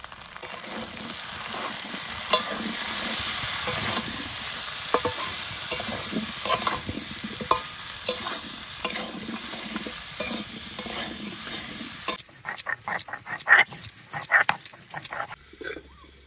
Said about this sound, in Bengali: আদা দিয়ে আর একটু ভেজে নিয়েছি আলুগুলো